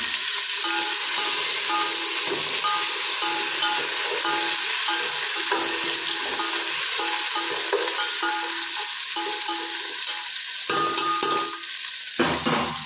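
Onions and curry leaves frying in ghee in a pan, a loud close sizzle and hiss with scraping stirring sounds, continuous and settling slightly near the end.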